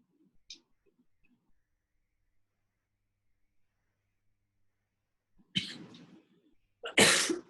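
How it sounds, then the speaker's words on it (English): A person who is under the weather coughs twice near the end, loud, close and abrupt, after a long near-silent stretch with only faint soft sounds at the start. "Apologies, I'm coughing a little bit."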